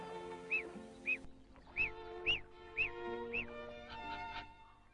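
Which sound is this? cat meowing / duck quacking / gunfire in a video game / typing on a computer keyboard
duck quacking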